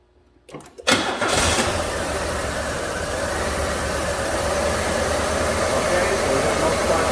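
A 1994 Buick with the 3800 engine cranks and catches during a spark test, a brief stutter of starter noise followed by a loud, steady engine running close by.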